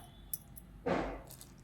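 A soft, wet squish of sorghum dough being kneaded by hand, one brief moist squelch amid quiet room noise and faint clicks.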